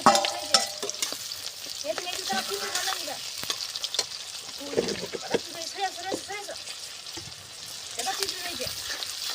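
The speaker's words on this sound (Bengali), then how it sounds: "যখনই লাল লাল করে ভাজা হয়ে যাবে" Ingredients for egg pasta fry in a pan with an ongoing sizzle and occasional stirring clatter, heard beneath a person talking.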